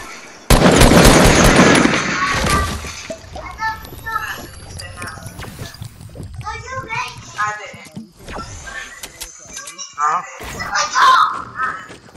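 Gunfire in a Fortnite match: a loud, dense burst of rapid shots near the start, then scattered quieter shots and game effects, with people talking over it.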